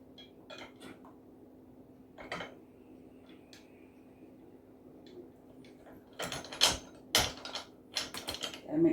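An Air Walker SF-E902 exercise machine being assembled by hand, a bolt and washer fitted: sparse soft metallic clicks and taps, then a denser flurry of sharper rattling clinks near the end, close and fairly quiet.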